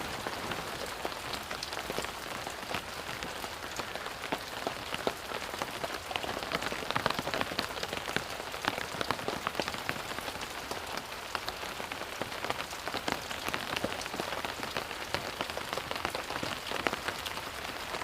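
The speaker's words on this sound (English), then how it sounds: "It is raining." Steady rain pours onto a hard surface outdoors in Baltimore, a dense continuous patter of drops holding an even, fairly loud level throughout with no voices.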